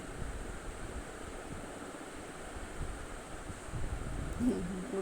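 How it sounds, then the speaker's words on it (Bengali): Rough monsoon sea surf churns steadily near a busy temple shore, a loud continuous wash of breaking waves mixed with wind buffeting the microphone, swelling slightly toward the end. "আর সমুদ্রের জল এত উতাল পাতাল করছে এখন বর্ষার সময়ের জন্য মনে হয় তাই এত জল বেশি সমুদ্র"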